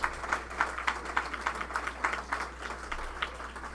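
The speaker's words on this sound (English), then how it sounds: "How about another round of applause?" Audience applause at a talent show, scattered claps from a modest crowd, fairly faint and thin, dying down slightly toward the end.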